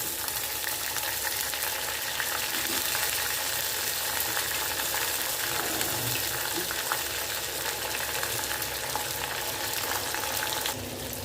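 Crushed garlic, green chilies and shallots sauté in a pan for a Madurai-style yellow pumpkin tamarind curry, filling the clip with a loud, continuous, even frying hiss heard alone.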